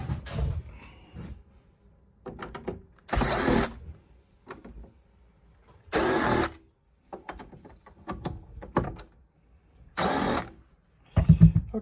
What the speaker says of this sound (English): Okay, so I'm going to remove my 6 screws.